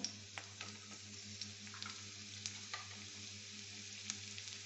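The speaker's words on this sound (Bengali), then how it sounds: "রসুন কুচোনো দিয়ে দিলাম" Chopped garlic frying in oil in a pan for an egg and brinjal dish, a quiet steady sizzle with occasional sharp crackles and a few light stirring clicks, a low hum underneath.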